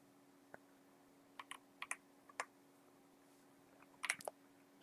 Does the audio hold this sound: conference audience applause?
no